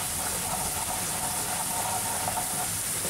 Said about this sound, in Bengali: এইভাবে আমি আস্তে আস্তে মশলাগুলোকে মশলাটাকে কষে নেব।